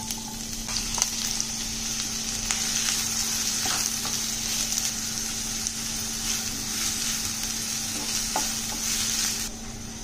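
Oil heating in a hot kadhai for an onion-heavy vegetable dish gives a steady, close sizzle that holds for the whole stretch, with a few faint clicks of stirring and no one talking.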